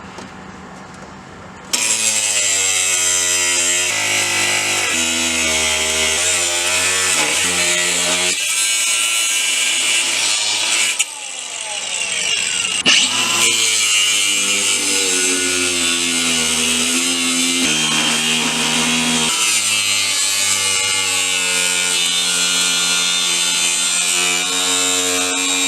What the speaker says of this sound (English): now we need to cut the OEM drive shaft carrier off